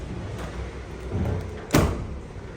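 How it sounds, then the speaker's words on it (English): A hotel room's sliding door glides open into the restroom at a Hard Rock resort in Punta Cana, giving a soft rolling rumble that ends in a short, firmer knock as it reaches its stop. "So this is a sliding door."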